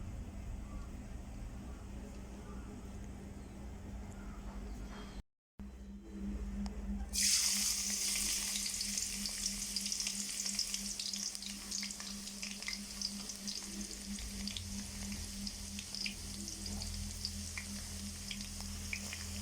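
Boiled taro leaves fry in hot oil with garlic and dried chilies, a steady loud sizzle that swells sharply when the ingredients hit the pan and then holds as a continuous crackling hiss.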